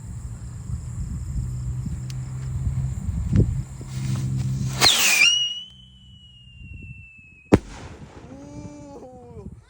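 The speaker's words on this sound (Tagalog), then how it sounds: "Whistling rocket." A whistling rocket firework, Lebrilla kwitis black, is lit and launched outdoors. A fizzing ignition rises into a long, steady, high whistle that fades, followed by a sharp crack and a fainter descending whistle.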